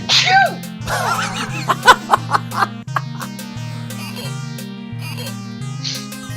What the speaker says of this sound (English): Excuse me, I got sneeze